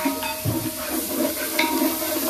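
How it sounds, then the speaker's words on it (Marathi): Coriander and spices roast in oil for a large batch of mutton sukkha, giving a steady low sizzle with soft stirring scrapes throughout, close and moderately loud with no talk. "कोथिंबीर हे सगळं तेलात भाजूया."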